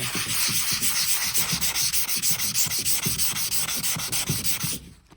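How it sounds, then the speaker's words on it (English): Sheet of 400 grit sandpaper rubbed by hand over an antique wooden secretary desk, a steady rhythmic scratching of regular back-and-forth strokes, close and loud, stopping abruptly near the end. "I guess I'll get the 400 grit and just do that by hand"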